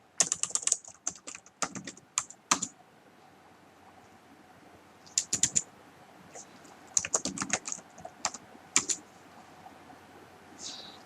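Someone types an address on a computer keyboard in quick bursts of close, crisp keystrokes, separated by short pauses of quiet.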